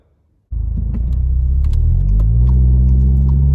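A VW Golf R Mk7 with Stage 3 IS38 hybrid turbo engine starts up after a brief silence, settling into a loud, deep, steady engine rumble heard from close by, with faint small clicks and rattles.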